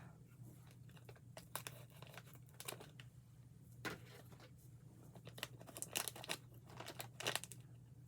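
A Universal Yums snack bag from an Africa-themed box is cut open, giving quiet plastic crinkles and sharp snipping and tearing bursts scattered irregularly, loudest near the end.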